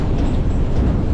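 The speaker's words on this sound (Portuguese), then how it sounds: "viajando de trem" Train travelling along a railway, a loud, steady rolling rumble with continuous low-frequency noise heard from close by, with no clear voices over it.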